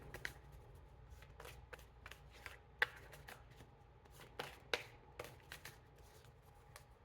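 Tarot cards being shuffled close up: quiet riffles and soft slaps in irregular bursts, with a few sharper snaps, alone with no talking.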